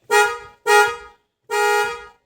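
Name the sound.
car horn honking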